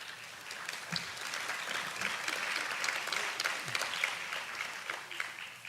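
Audience clapping at a university's State of the University address, a continuous wash of many hands applauding at a moderate, even level throughout, with no speech over it.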